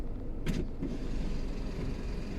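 A brief electric whir of a Toyota Harrier power window motor, followed by a faint creak and then steady low road noise.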